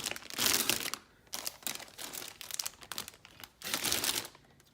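Plastic packaging from a 1/6 scale British SAS Raider Willys model kit crinkles and rustles in several close bursts, separated by brief quieter pauses, with no voices over it.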